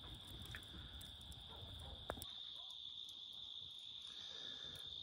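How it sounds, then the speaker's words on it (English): Crickets chirp on a summer night beside a garden firepit, a constant high trill running through the whole stretch, fairly faint, with scattered soft rustles and a brief tap. "All the little crickets and things are out already."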